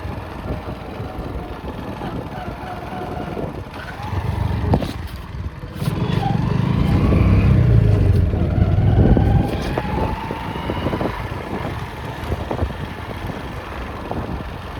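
Two-wheeler ridden away from a wedding meal, its engine rumbling low and swelling louder midway as it pulls off, with wind buffeting the microphone throughout.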